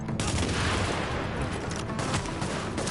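Dense gunfire bursts from a third-person shooter, The Division, rattle continuously and loudly over a low rumble, with overlapping shots and no pause across the whole stretch.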